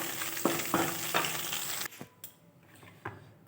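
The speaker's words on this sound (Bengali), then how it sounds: "ডিমটা আমার ঝুড়ো ঝুড়োভাবে ভাজা হয়ে গেছে।" Egg scrambles in oil in a pan for pasta, giving a close, faint sizzle under a few scraping stirs of a spatula, followed by sharper knocks and clinks against the pan.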